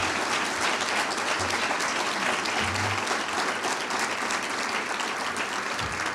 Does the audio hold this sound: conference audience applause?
yes